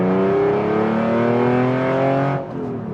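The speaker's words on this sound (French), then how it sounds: "Je vais vous faire une petite accélération sortie du village. Donc là on va pousser vers 5000 tours." A Porsche 911 engine revs hard toward 5000 rpm leaving a village, climbing steadily in pitch for over two seconds, loud and close, then drops off as the throttle eases.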